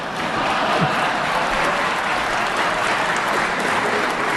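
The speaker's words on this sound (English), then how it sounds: "We should get some applause there, shouldn't we, Jim?" Sustained audience applause fills a chamber during the 2017 California State of the State address, a steady dense wash of clapping with no break, loud and even throughout.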